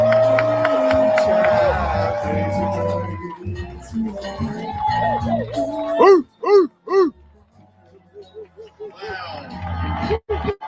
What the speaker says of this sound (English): give a nice warm round of applause to our good brother, Dr. Boyce Watkins.